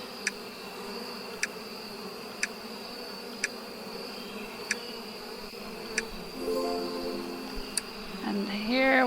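Bees in a beehive in the APICO beekeeping video game give off a steady, even buzzing hum, broken by evenly spaced soft game clicks, with a brief cluster of game tones near the end.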